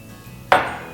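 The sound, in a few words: warm water poured into a bowl for bread dough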